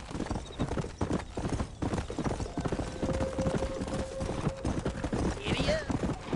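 A horse gallops with rapid, rhythmic clip-clop hoofbeats in Red Dead Redemption, close and loud, with a brief whinny near the end and voices shouting over it.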